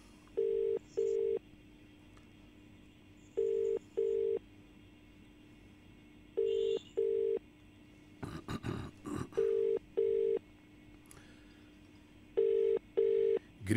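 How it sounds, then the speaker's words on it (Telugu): A telephone rings unanswered on a Telugu radio entertainment show, repeated paired electronic ring bursts in a steady rhythm over a quiet background, briefly interrupted by a short clattering noise midway. "ప్రియ గారు కనీసం మీరైనా లిఫ్ట్ చేయండి ఫోను."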